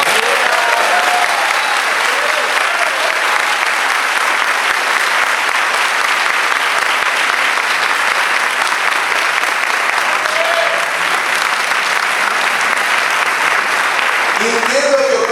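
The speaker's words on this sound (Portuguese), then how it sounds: "Pode aplaudir." A church congregation applauds during a sermon, with loud, dense, continuous clapping and some cheering voices throughout, ending as the crowd noise picks up with more shouts near the close.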